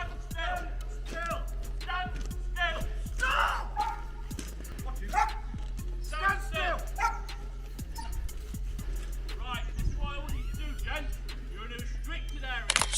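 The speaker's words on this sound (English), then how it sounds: "Dogs bark from beyond the walls." Guard dogs bark from beyond prison perimeter walls: repeated, irregular woofs and yips at moderate distance over a low steady hum, with some whimpering mixed in.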